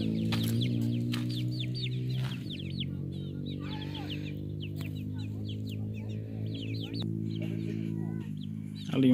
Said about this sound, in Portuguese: Ali uma galinhazinha, tá vendo?